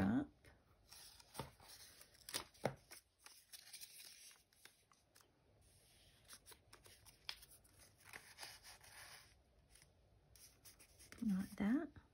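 Book-page paper pieces are handled and folded for a junk journal mini pocket and tag, giving soft close rustles, creases and light scratching taps throughout, with brief voice sounds near the start and end.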